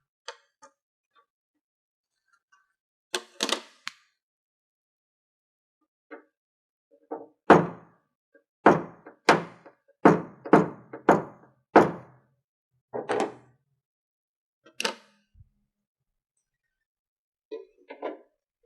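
Paintless dent repair tools tap down high spots on a dent in short clusters of hard, close knocks, with quiet pauses between bursts and a few isolated taps.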